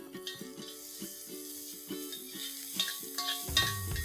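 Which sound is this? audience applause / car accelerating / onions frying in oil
onions frying in oil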